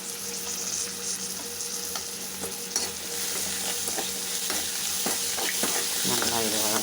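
Onions and tomato sautéing in a pan, with a continuous close sizzle and frequent sharp scrapes and taps of a spatula stirring through the mix, no talk.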